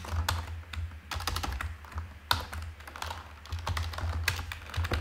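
Shell command typed on a computer keyboard: bursts of quick, close key clicks with short pauses between them, no voices.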